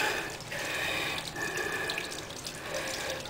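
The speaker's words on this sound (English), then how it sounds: "Make sure you rinse your hands off really good, get that stuff off." Tap water runs steadily into a sink as hands are rinsed clean of etching residue during home PCB making, a continuous close splashing hiss with no talking.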